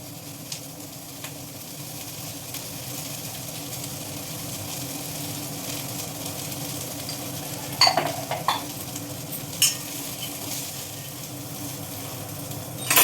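Ivy gourd curry with salt frying in a pan, a low steady sizzle with a few brief metallic scrapes and clinks of stirring near the end, fairly quiet and close.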